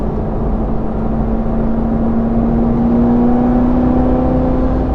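A 2018 Chevrolet Corvette C7 Z06 with stock exhaust gives a loud, continuous engine drone heard from close by, its pitch climbing gently as it revs, with no voices over it.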